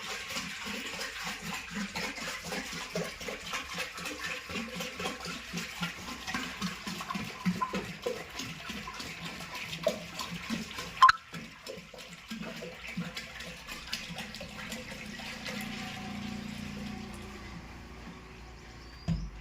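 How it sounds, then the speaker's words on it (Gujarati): Ten litres of cow urine is poured into a jeevamrut mix, making a steady splashing stream of liquid for about eleven seconds before it thins and tapers off. "હવે આપણે આમાં 10 લીટર ગૌમૂત્ર રાખેલું છે એ એડ કરીએ."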